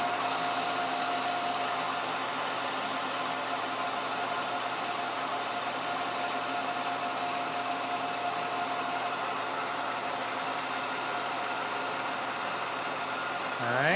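A metal lathe running at 1,000 RPM faces off the end of a hardened 4140 steel pin with a steady, even whir and a faint high tone, holding constant throughout with no talk.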